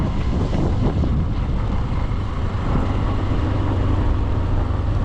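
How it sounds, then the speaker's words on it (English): Steady, loud rush of wind buffeting the microphone with a low engine rumble underneath while riding a motorbike outdoors in Africa, continuous and close with no clear gear changes. "I'm on a motorbike."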